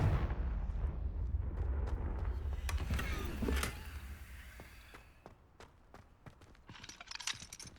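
A Confringo blasting spell in the video game Hogwarts Legacy sets off a rumbling explosion with a heavy low boom, followed by scattered crackles and sharp debris-like clicks that fade out over several seconds.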